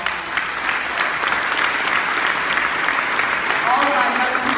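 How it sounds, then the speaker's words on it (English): A crowd at a political gathering claps in a full, steady round of applause, with a few voices faintly mixed in. "why don't you give the young professionals a round of applause?"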